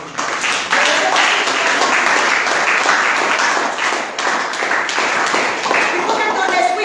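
Church congregation applauding in worship, dense continuous clapping from many hands, loud and close, with voices audible beneath the applause.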